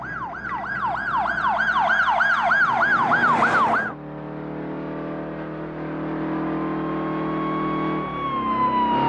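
A police siren wails in rapid, rising and falling cycles for about four seconds, loud and near, then cuts off. A steady truck engine drone and a fainter tone continue afterward.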